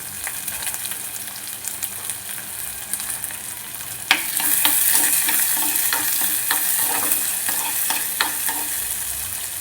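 Small shallots are tossed into hot oil with mustard and cumin for a Kerala lunch dish, setting off a louder burst of crackling sizzle partway through, followed by steady frying with repeated scraping stirs close by and no talking.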